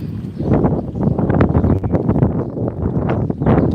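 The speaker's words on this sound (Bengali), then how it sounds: "অনেক বাতাস বাতাস" Strong wind gusting around a flooded home after a full day of rain, blowing through a sapodilla tree; a steady, loud, rushing roar with rustling, close to the microphone and continuing without a break.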